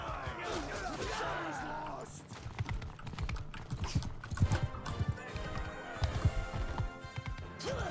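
Horse hoofbeats in the Mount & Blade 2: Bannerlord video game, rhythmic galloping clops under game battle noise and background sounds, with a voice talking over parts of it.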